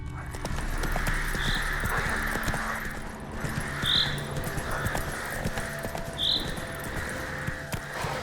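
Roach, a horse in The Witcher 3 video game, gallops with rapid, continuous hoofbeats that stay close and steady under ambient outdoor game sound, with a few brief higher calls.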